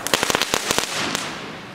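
P1 firecrackers bang on a street, a rapid burst of about eight sharp explosions in the first second, then one more crack before a fading noisy tail.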